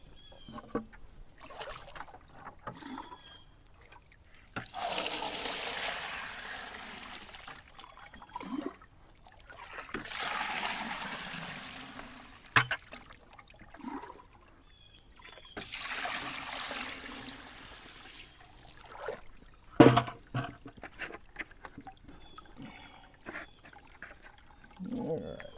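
Water is poured into a bucket at a gold prospecting site in three long, rushing splashes a few seconds apart. Brief knocks and faint voices fill the gaps between pours.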